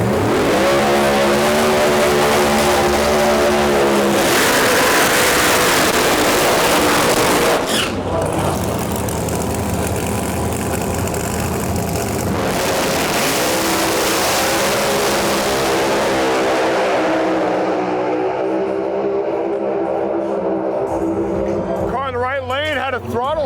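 Pro Mod drag race car roaring hard down the strip, a loud sustained engine note rising in pitch, cutting out briefly and then surging again, with a commentator talking over it throughout.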